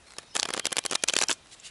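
Rapid riffle of playing cards being shuffled, a dense burst of crisp flutters lasting about a second, close and fairly loud, with no talking.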